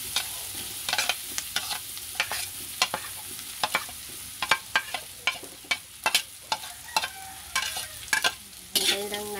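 Ham sizzles in a pan with margarine for a creamy carbonara, a steady frying hiss broken by frequent sharp scrapes and clacks of a utensil stirring against the pan, close and fairly loud.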